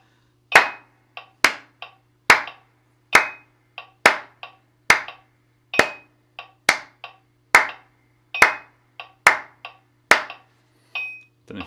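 Hand claps in a steady triplet pattern, a strong clap followed by two lighter ones, repeating about a dozen times; sharp and close against a faint low hum, with no voices.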